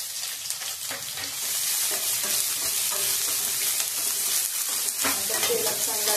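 Onion, a couple of garlic cloves and green chili fry in hot oil for upma, giving a loud, steady, close sizzle with occasional scraping stirs and no talking.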